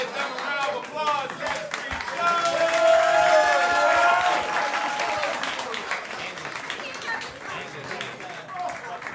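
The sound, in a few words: audience applause at comedy roast battle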